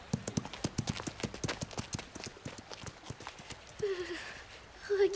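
Cartoon horse hooves clip-clop in a quick, steady rhythm, with short cartoon voice sounds near the end, in a French animated children's show.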